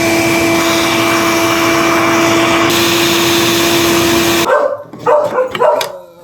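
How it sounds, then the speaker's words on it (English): A shop vac drones loudly and steadily as it extracts water from a washing machine, a constant high whine that cuts off abruptly, followed by a few muffled clunks and a dog barking nearby. "to use the shop vac and then slightly unscrew this funnel"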